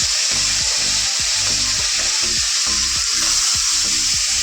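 Salted fish frying in hot oil gives a steady, loud sizzle with dense crackle, plus rhythmic low thumps underneath; no voices.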